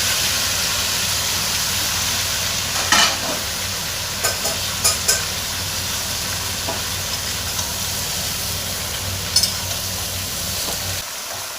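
Spinach stalks and vegetables with hilsa fish head sizzle steadily in a pan for a Bengali chorchori, with scattered scrapes and clinks of stirring rising above the constant frying hiss.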